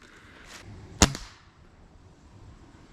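A single sharp pellet gun shot fired from a prone position on the ground, a loud crack followed by a brief fading tail, with quiet outdoor ambience before and after.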